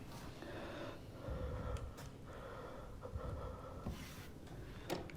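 Heavy, ragged breathing with gasps and snorts in a scary setting, steady and fairly close over a low background rumble, with no talk.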